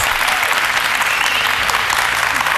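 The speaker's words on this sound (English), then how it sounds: "One more applause for that last debate." A debate audience applauds steadily and loudly, a dense wash of clapping hands filling the whole stretch without pause.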